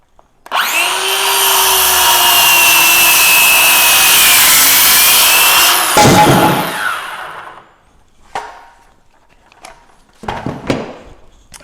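Wood being cut with a RYOBI power saw while building an outdoor bench, a loud close whine that runs steadily for about five seconds and then winds down, followed by a few scattered knocks and handling clatter.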